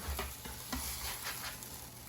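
Steady sizzling of a grilled cheese sandwich frying in a hot pan, a continuous crackling hiss with occasional soft scraping stirs.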